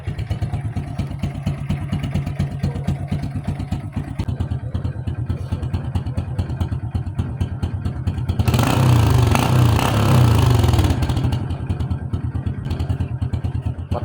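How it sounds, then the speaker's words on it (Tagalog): A motorcycle engine with a noisy, worn tensioner idles with a rapid, rattly mechanical clatter, then briefly revs louder for a couple of seconds before settling back to the ticking idle. "Painitin na natin at marinig ko sa inyo yung kanyang ingay"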